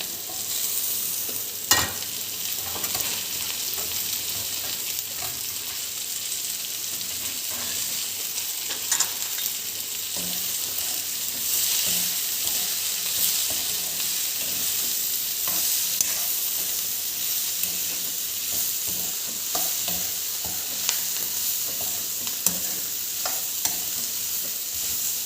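Green beans, onions and two green chillies for a Kerala thoran stir-fry in a pan that is not nonstick, giving a continuous loud sizzle marked by frequent sharp scrapes and clinks of the spoon, with no talk.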